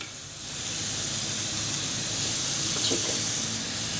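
Minced chicken frying in oil in a pan on a medium flame, a steady, close, dense sizzle and hiss that holds without pause, with no talk.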